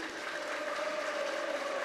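A crowd at a basketball game applauds in an indoor arena, steady sustained clapping from many hands filling the space with no clear voices over it.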